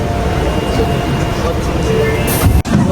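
Onboard a train in Japan, a loud, steady low rumble of the moving carriage with a brief dip near the end and faint talk underneath.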